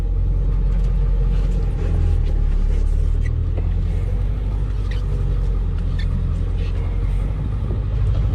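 A pickup truck that had sat unused for years, converted to a five-speed, rumbles at a steady idle, a loud, low, continuous engine drone filling the whole stretch without clear changes.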